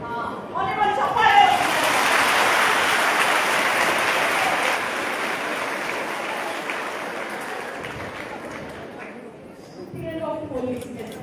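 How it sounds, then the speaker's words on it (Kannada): A crowd of students at an awareness session in Koppal claps for a classmate, a loud, dense round of applause that swells quickly, holds for several seconds and then tapers off. "ಅವನಿಗೆ ಚಪ್ಪಾಳೆ."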